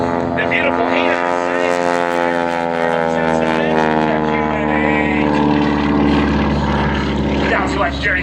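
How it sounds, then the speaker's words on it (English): Propeller aerobatic airplane flying a loop at the Fargo airshow, a loud continuous engine drone whose pitch slowly bends and rises as it climbs through the manoeuvre, steady and close throughout. "He flies the airplane through 5/8 loop."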